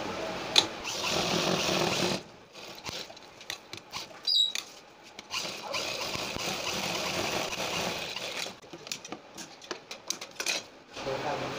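A sewing machine stitches a folded one-inch fabric strip for a kurti back neck design, a fast steady mechanical whirr with brief stops and restarts, close up, under faint background sounds.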